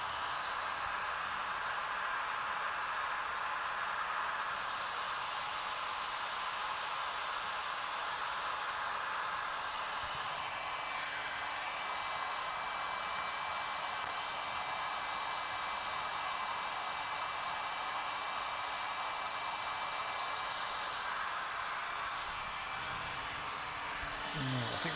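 A heat gun heating copper pipe for soldering gives a constant, steady hiss of blowing hot air that stays close and even throughout, with no talking.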